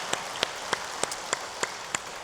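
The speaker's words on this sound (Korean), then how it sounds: "박수로 우리 환영합니다." A congregation at a Sunday church service clapping to welcome a newcomer, about eight evenly spaced, crisp claps in a steady rhythm over a soft room hush.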